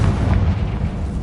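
Confringo fire spell blast in Hogwarts Legacy on PS5, a single loud, dull booming burst with a rumbling low tail, alone without talk.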